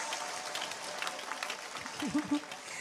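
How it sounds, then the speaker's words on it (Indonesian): Steady applause from a crowd at an Indonesian religious gathering fills the space, with a voice briefly rising over the clapping near the end. "Tepuk tangan disip dong."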